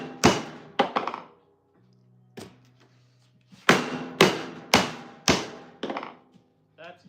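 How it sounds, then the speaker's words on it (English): Resin blocks are hammered out of their molds in a string of loud, close, hollow thunks: a few early blows, a short pause, then a quicker run of five or six strikes. "If I'm hammering it myself, it's not that loud."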